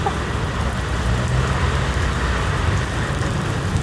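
Steady rain falls over an Istanbul street on 25 March 2024, a dense, even hiss mixed with low traffic and engine rumble throughout.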